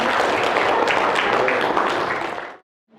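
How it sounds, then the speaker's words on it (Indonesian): Applause in a classroom during a teaching practice lesson, a dense burst of clapping that stays loud for about two and a half seconds and then stops abruptly. "tepuk tangan untuk Mbak Naimi"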